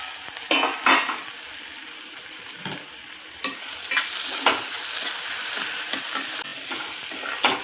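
Chopped onion sizzles steadily in a hot pan, a continuous bright frying hiss punctuated by several sharp scrapes and clanks of a spatula stirring against the metal, close up and without speech.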